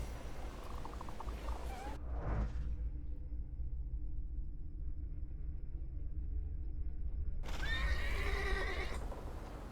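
Loud whinnying bursts from a horse in the video game The Thaumaturge bracket a quieter stretch, with a low rumbling texture running underneath throughout.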